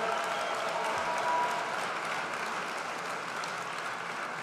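A large crowd at a political rally in Angers, France applauds itself, a dense, continuous roar of clapping that stays even and full throughout.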